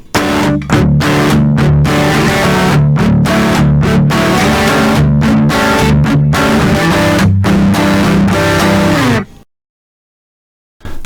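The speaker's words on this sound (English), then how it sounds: "this is a pretty dry crunch" A dry crunch tone from an electric guitar through a Zoom G1 Four effects pedal, loud, choppy chord strums and riffs with brief breaks, ending in a sudden silence.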